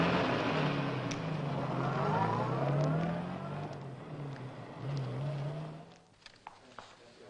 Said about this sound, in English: Park there by the back exit. Keep the engine running.